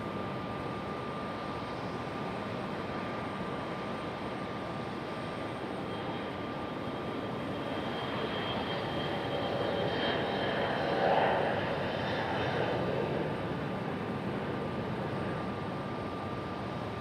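A Copa Airlines Boeing 737 MAX 8 jet at Raleigh-Durham airport gives a steady, distant roar of jet engines that swells slightly midway, with no talk.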